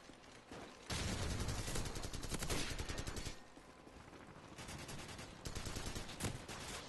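Sustained automatic gunfire in Call of Duty 4, dense rapid bursts that continue for several seconds with brief dips in intensity and no talking.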